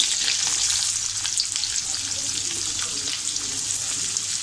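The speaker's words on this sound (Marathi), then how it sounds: "तेल तापल्यानंतर आपल्याला मिरच्या टाकायच्या आहेत" Green chillies hit hot oil for tempering, giving a loud, continuous, bright sizzle and crackle that holds steady throughout without any voices.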